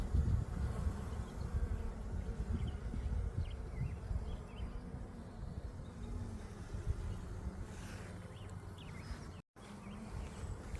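Honey bees buzz steadily around an opened beehive while frames heavy with nectar and capped honey are inspected, a continuous low insect hum filling the space with no talk.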